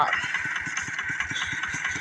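A Kubota engine of about 11 horsepower powers a Thai farm cart truck used for hauling straw bales. It idles loud and close with a steady, rapid chugging clatter throughout.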